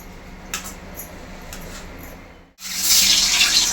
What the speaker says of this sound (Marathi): आता मस्तपैकी अंडी फ्रायसाठी गेलेली आहेत कढाईमध्ये